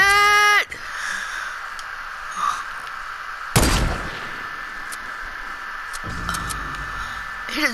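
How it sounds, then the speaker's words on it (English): Gunfire in Fortnite striking the new cube, a sharp loud burst of shots in the middle over steady game ambience, with a rising tonal chime at the start and scattered clicks afterward. "It absorbs the bullets"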